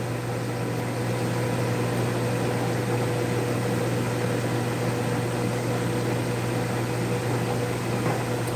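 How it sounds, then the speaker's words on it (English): A kitchen stove vent fan runs steadily with a constant hum and airy whoosh, unchanging throughout, while a quick summer stir fry is being cooked. "I'm going to turn on my vent."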